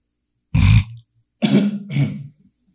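A man clears his throat and coughs, a heavy, gravelly throat-clear followed after a pause by two rough coughing bursts, close and loud against silence.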